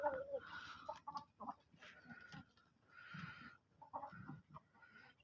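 An Aseel hen clucks nearby in short, irregular bursts of throaty calls, fairly faint, with a rooster-like quality in places.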